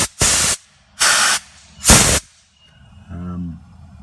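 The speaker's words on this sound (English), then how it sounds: "Then a bit of compressed air to clean the rest out." Compressed air blasts through a brake line on a VC Valiant ute in three short, loud hissing bursts with pauses between them, followed by a brief voice-like sound.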